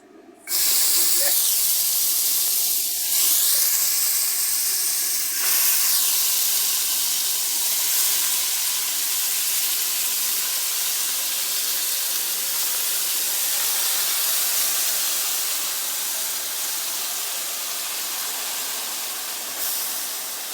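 Mutton pieces added gradually to hot oil, giving a loud, steady broadband sizzle that starts abruptly and holds continuously throughout, with no talk over it.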